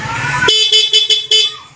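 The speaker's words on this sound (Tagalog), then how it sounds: "so unahin po muna natin ang stock" Stock horn on a Yamaha NMAX v2 scooter sounding close and loud, one longer honk followed by four short beeps in a quick uneven sequence, after some brief background noise.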